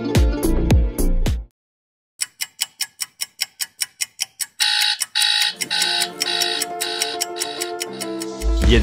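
An alarm clock ticks in a steady rhythm after a short silence, then rings in bright bursts, and music takes over.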